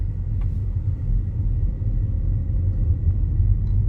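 A car driving slowly through a residential neighborhood in the Oaks on Providence and Waxhaw, North Carolina, its low engine and road rumble steady and close throughout, with no voices.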